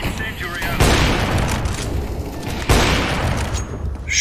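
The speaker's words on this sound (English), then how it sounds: "Throwing grenade." A grenade bursts in Counter-Strike: Global Offensive, with two loud, sharp blasts a couple of seconds apart, each followed by a rumbling tail, over a steady bed of game noise and gunfire.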